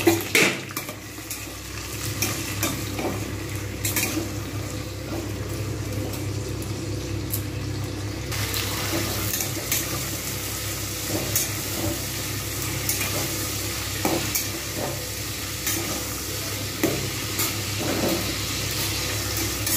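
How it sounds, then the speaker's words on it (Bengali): Shrimp fry in hot white oil in a wok with a steady sizzle, while a utensil stirs and scrapes with occasional clinks against the pan, close and continuous. "এবারে আমি চিংড়িগুলোকে ভেজে নেব।"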